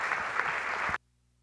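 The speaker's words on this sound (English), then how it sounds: "But please just give a round of applause for this great and" Audience applause for a plenary panel on how beauty works, a full burst of dense clapping that stops abruptly after about a second, leaving near silence.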